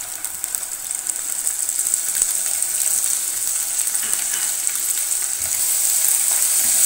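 Ginger garlic paste frying in hot oil for masala bhindi: a loud, continuous close-up sizzle that holds steady and builds slightly toward the end, with no talking.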